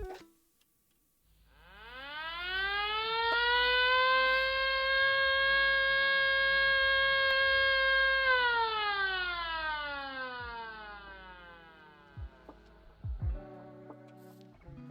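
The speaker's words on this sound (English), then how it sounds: "So starting off, we have this air raid siren." A loud air raid siren in Minecraft winds up, holds a steady wailing tone for several seconds, then winds down, followed by a few clicks.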